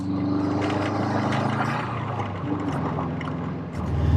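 Steady engine drone and road roar fill the cabin of a JDM Subaru Impreza STI Spec C Type RA with upgraded diffs, a loud continuous rumble that swells slightly near the end.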